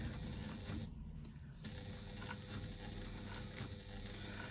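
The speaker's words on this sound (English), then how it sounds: "I'm just going to do a line of stitching." Sewing machine with a size 16 needle, Teflon foot and Coats Moon thread running a line of stitching through faux leather for a bag: a steady, close mechanical hum and rapid rattle, continuous and alone.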